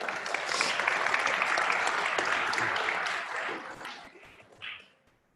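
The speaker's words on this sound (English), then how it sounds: "Let's give Barry a round of applause, everybody." An audience applauds at a speaking event, with sustained loud clapping that fades out over the last couple of seconds.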